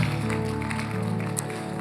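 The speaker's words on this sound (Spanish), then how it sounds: "Vamos, dele fuerte el aplauso a Jesús" Congregation applauding during a church service, a steady wash of clapping layered over sustained music tones, dense and fairly loud throughout.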